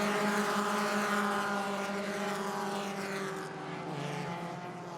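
Mazda MX-5 Cup race cars rolling on a formation lap at Michelin Raceway Road Atlanta: a steady, loud engine drone that fades slightly over a few seconds, with no talk.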